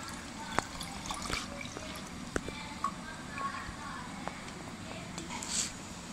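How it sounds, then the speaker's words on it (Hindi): Sugar water being strained into a jug while making a sattu sharbat summer drink, giving a soft, steady trickle and patter of liquid with a few small drips and clinks, close by and fairly quiet. "शक्कर का पानी हमने छान लिया"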